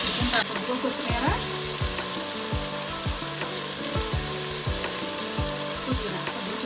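Carrot and coriander fry in a pan for a vegetable biryani. A loud, continuous sizzle is broken by repeated rhythmic scraping strokes as the vegetables are stirred.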